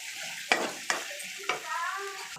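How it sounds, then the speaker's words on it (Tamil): Onions and curry leaves sizzle in a hot pan as they are sautéed until golden, with a steady frying hiss broken by three sharp stirring scrapes. "இது வந்து நல்லா பொன்னிறமாக கொஞ்சம் நல்லா வதக்கி எடுத்துக்கலாம்."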